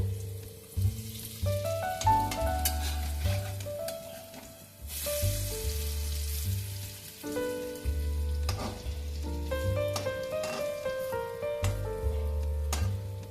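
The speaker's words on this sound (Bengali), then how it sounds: "বড়াগুলো হালকা লাল করে আমি ভেজে নেব।" Lentil and poppy seed fritters frying in hot oil, a continuous crackling sizzle with occasional stirring and turning sounds, close up, with no talk.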